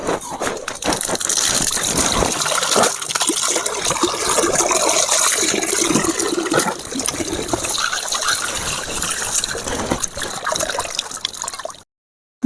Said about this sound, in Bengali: সমস্ত মাছ আমার বাছা হয়ে গিয়েছে এবারে মাছগুলো আমি ধুয়ে নেব